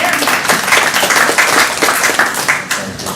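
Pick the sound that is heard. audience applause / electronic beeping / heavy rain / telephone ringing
audience applause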